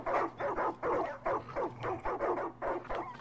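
Dogs in the video game Far Cry 5 bark over and over in quick, overlapping bursts, with an occasional whine mixed in, loud and close, filling the scene with no voices.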